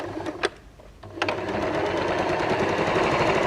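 A sewing machine stitches a patchwork seam, starting with a couple of short bursts and then running in a steady, close, fast mechanical whir.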